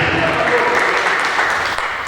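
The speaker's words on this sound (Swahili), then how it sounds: "sunipigie makofi" Steady clapping from a church audience at a gospel album launch, a dense wash of hand claps sustained throughout without pause.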